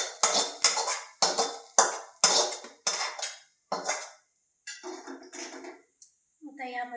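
Metal utensils clink and scrape against a plate as fried cabbage is transferred: a series of sharp, separate clanks roughly every half second, close by, followed by a few quieter knocks and a faint tonal sound.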